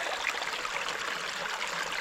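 Spring water pouring from a pipe at a trail water source in the mountains, a steady, close, bright splashing trickle that holds evenly throughout with no talking.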